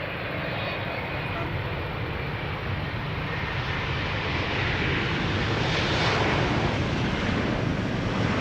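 A Transavia airliner on approach to land produces a steady, distant jet rumble that rises slightly toward the end, blended with broadband wind-like noise.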